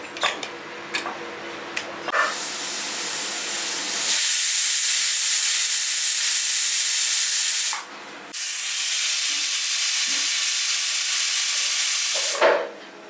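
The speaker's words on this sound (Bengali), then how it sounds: "সামান্য জল দিয়ে ঢাকা বন্ধ করে আগে মাংসটা সিদ্ধ করে নেবো" Goat mutton boils with a little water in a covered pot, giving off a loud, steady steam hiss in long stretches broken by short pauses, with a few faint clicks at the start.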